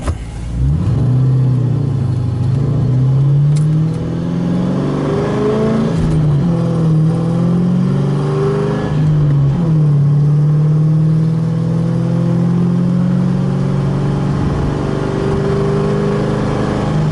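A 2006 Mustang GT with a Borla ATAK exhaust and catless X-pipe revs loudly and raspily, its deep steady rumble rising and falling through several throttle blips, very close and alone.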